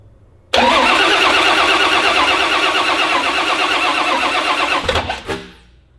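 A car engine cranks and churns loudly for about four seconds with a fast, steady starter rhythm, then sputters and fades out.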